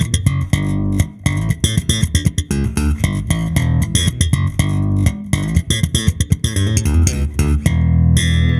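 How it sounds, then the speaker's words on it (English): An Enfield Lionheart bass is slapped with treble and bass boosted, a continuous, loud, busy line of bright popping and deep thumping notes played close, with no talking. "now if I boost the treble a little bit and the bass a little bit,"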